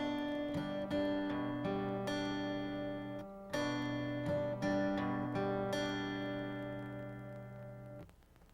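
Solo acoustic guitar blending thumb-and-finger plucked string pairs with light strums, notes ringing out close and clear in a steady repeating rhythm before fading at the end.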